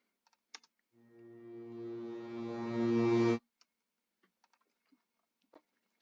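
A reversed synth lead swells for about two and a half seconds in an FL Studio cinematic track, rising in loudness and brightness before cutting off abruptly into near silence with faint clicks.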